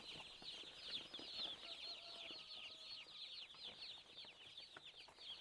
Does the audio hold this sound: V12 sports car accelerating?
no